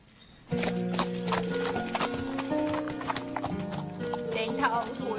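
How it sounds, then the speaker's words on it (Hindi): Horse hooves clip-clop in a steady rhythm while the horse is ridden, close and clear, with people talking throughout. "तुम्हें घोड़ा चलाना नहीं आता ना?"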